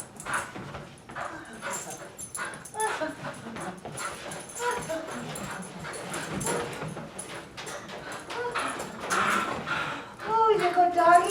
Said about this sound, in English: Oh, there go doggy.